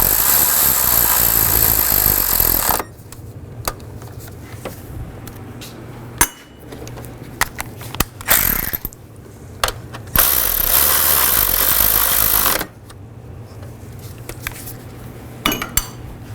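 Repeated metallic ratcheting clicks in short bursts while tightening down valve cover bolts on a 2005-2015 Nissan Xterra, with clinks of tools and pauses between, over a steady background hum.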